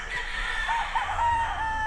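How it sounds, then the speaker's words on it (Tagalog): A rooster crows, the drawn-out call rising and falling over a steady background hum, fairly close and clear. "Ito yung mga manok ni Boss Noel."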